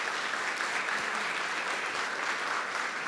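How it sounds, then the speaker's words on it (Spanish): An audience at a panel on the legal framework for electronic document management breaks into sustained applause, a dense, even wash of clapping that holds steady throughout. "A lo que yo quiero un aplauso, señores."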